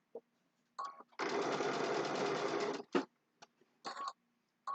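A sewing machine stitches a quilt block seam in one steady run of about a second and a half, close and fairly loud, with brief clicks and handling noises before and after.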